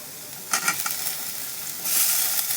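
Onions fry in a pan for an egg roll while a utensil stirs them, several close scraping strokes followed by a swelling, steady sizzle, with no voices.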